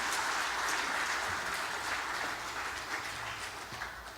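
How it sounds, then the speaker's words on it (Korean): Church congregation applauding the choir after a Sunday worship song, dense steady clapping from a full room, loud and continuous throughout with no voices over it. "시온 찬양대를 위해서도 박수 한번 해주시겠습니다"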